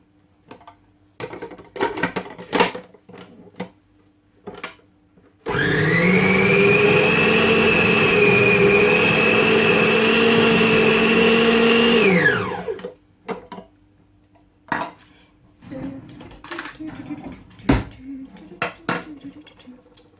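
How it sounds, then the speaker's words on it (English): Butter being beaten by an electric mixer, a loud steady whine that runs for about seven seconds between quieter stretches of clinks and kitchen handling noise. "We will start by mixing the butter first."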